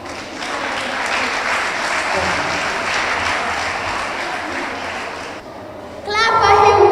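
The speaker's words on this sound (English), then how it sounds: "Clap for him once again." Audience applause at a children's speaking contest in Gambia, sustained clapping for several seconds that stops abruptly, followed by a voice speaking up close.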